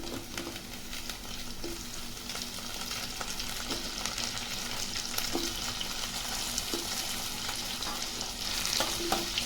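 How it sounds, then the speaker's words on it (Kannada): Brinjal for vangibath frying in oil, a steady close sizzle running throughout while a spoon scrapes and stirs the pan in soft, irregular knocks. "ವಾಂಗಿಬಾತ್ ಆಗಿರೋದ್ರಿಂದ ಬದನೆಕಾಯಿ ಸ್ವಲ್ಪ ಜಾಸ್ತಿನೇ ಇರಲಿ. ಚೆನ್ನಾಗಿ ಫ್ರೈ ಆಗ್ಬಿಟ್ಟು"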